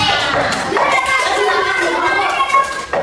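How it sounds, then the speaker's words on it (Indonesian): Children clap their hands together in a second-grade mathematics classroom, a steady, dense patter of small hands lasting throughout, mixed with kids' voices chattering nearby. "Ayo beri tepuk tangan."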